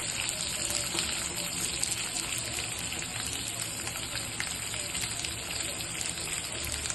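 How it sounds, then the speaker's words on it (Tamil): Onion, curry leaves and green chilli sizzle in hot frying oil for onion utthappam, a steady broad hiss and crackle running throughout at moderate level with no talk. "இந்த எண்ணெயோடு சேர்த்து கொஞ்சம் நல்லா வதக்கிட்டு மாவில் வந்து சேர்த்துக்கலாம்"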